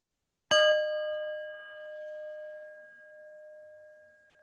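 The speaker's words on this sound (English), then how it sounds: "So I'll begin with the bell, and then I'll guide you through it." A mindfulness bell struck once at the start of a school breathing exercise, a clear bright ding that rings out and decays slowly over several seconds in a quiet room.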